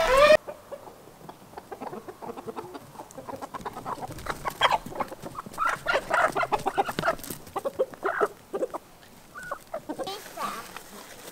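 Chickens clucking at a farm in an isolated forest area, repeated close clucks and squawks in an irregular rhythm, with someone speaking in between.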